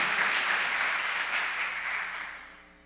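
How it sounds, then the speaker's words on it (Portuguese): A church congregation applauding during a service, steady dense clapping that gradually fades out toward the end. "Aplauda o Senhor mais uma vez"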